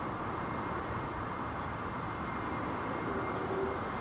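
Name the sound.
aircraft landing at Heathrow Airport in windy storm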